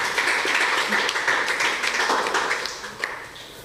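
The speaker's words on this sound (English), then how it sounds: "Please, a round of applause for them" Applause from a school audience at a debate between Osogbo Grammar School and Ataoja School of Science: a dense, sustained wash of many hands clapping that holds steady, then tapers slightly toward the end.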